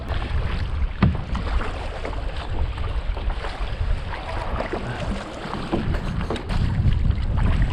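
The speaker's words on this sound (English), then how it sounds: "So I think I'm gonna paddle up through there, check it out." Kayak paddling through a canyon on the Lower Pecos River, with steady water splashing and wind rushing across the microphone, a few sharper paddle knocks standing out near the start and toward the end.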